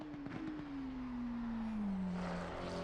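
GT3 race car engines at Bathurst in Assetto Corsa Competizione drone steadily, one tone slowly falling as a car runs on, loud and continuous with no talk.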